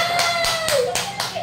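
A few distinct hand claps, about five spaced beats, sound close by in a home setting while voices talk over them.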